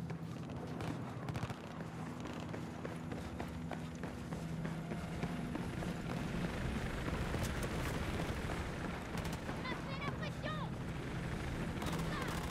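A dense, roaring helicopter rotor din mixed with rumbling game effects in Battlefield 4, loud and continuous throughout.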